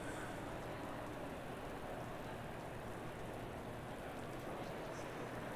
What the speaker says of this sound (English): Doesn't look like light rain. That looks a little bit heavier than that